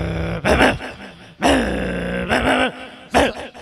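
A man imitates the growl of a male Mudhol dog, four rough throaty growling bursts separated by short pauses, loud and close.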